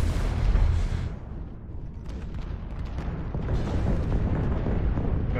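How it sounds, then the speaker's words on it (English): Artillery strike explosions boom in MechWarrior Online, a heavy opening blast followed by a rolling, rumbling barrage of deep impacts and debris that sustains loudly throughout. "Artillery strike activated"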